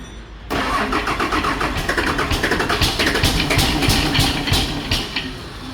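A car engine cranks and catches, then settles into a loud, steady running rumble nearby.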